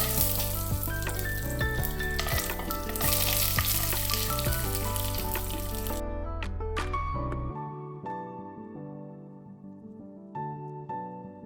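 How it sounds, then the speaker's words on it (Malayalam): Raisins and cashew nuts frying for apple payasam give a steady, close sizzle for the first few seconds, then the frying fades lower and quieter toward the end, with no talk. "ഇനി നമുക്ക് പായസത്തിലേക്കുള്ള മുന്തിരിയും അണ്ടിപ്പരിപ്പും ഒന്ന് വറുത്തെടുക്കാം കേട്ടോ"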